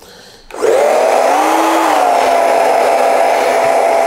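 A hair dryer fitted with a diffuser attachment switches on after half a second, then roars loud and steady with a close, even whine as it dries hair.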